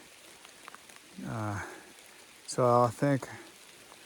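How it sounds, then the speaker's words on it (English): Steady rain falls on a Washington trail along the Pacific Crest Trail, a soft continuous patter running beneath a man's brief speech. "Socked in, just steady rain."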